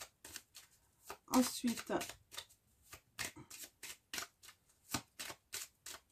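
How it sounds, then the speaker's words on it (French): Lenormand cards from The Gwyn Lenormand deck are shuffled by hand in a quick, rhythmic series of soft riffles and slaps, close and fairly quiet, with a brief spoken word early on. "on va mélanger les cartes"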